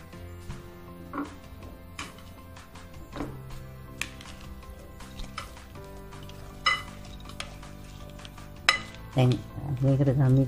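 Vegetable salad of boiled carrot and cucumber being tossed with two spoons in a bowl, with intermittent clinks and scrapes of metal on the bowl and soft rustling, some louder clatters near the end.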